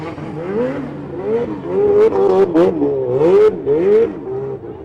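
Dwarf stock cars race at Pearsonville, California during a Turkey Classic event, engines revving and rising and falling in pitch as several cars pass close by, loud and continuous.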